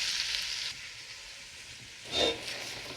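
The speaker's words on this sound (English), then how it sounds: "I have the heat kind of cranked under this burner to get those onions started." Onions frying in a pot over a high burner, a faint, steady sizzling hiss with a brief louder crackle near the end.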